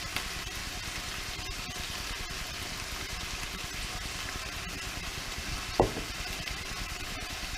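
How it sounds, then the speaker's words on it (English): Chicken pieces frying for fajitas in a hot pan give a steady, close crackling sizzle that runs the whole time, with one brief louder clatter or stir near the end and no voices. "You hear that sizzle?"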